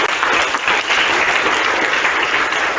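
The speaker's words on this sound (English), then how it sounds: "Claps for them also." Steady, dense applause from an audience at a zonal level quiz competition fills the whole stretch, loud and continuous with no talking over it.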